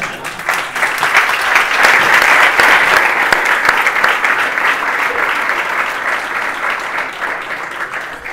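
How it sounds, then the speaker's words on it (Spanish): A conference audience bursts into sustained, loud applause that swells and holds for several seconds before slowly thinning, with scattered voices mixed in. "y ahora me aplaudís"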